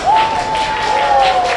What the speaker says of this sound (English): Nice to see Rouge clapping him home.